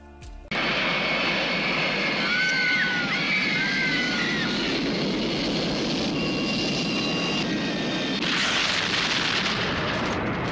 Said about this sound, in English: He produced the Medusa Touch in 1978, which featured an airplane flying into a building.